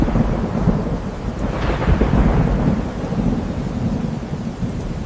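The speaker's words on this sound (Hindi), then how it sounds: "बारिश का मौसम है।" Steady heavy rain with a loud rolling thunder rumble building through the middle, a continuous storm ambience with no voices.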